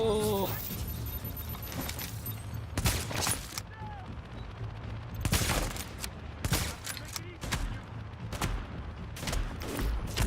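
Rapid gunfire in a video game battle against a sniper, dense volleys and bursts over continuous game noise and effects, loud and close, with no talk.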